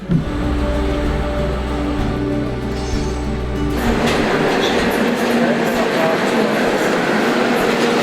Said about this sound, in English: this might be my train now